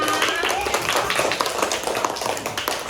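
Children and a teacher clap together in a classroom, a dense burst of quick hand claps running steadily throughout, fairly close, with voices mixed into the patter.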